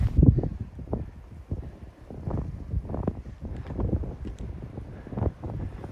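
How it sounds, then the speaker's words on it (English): Strong wind buffets the microphone high on a mountain along the Arizona Trail, producing heavy, uneven low rumbling gusts that rise and fall throughout with no speech. "Get windy up here."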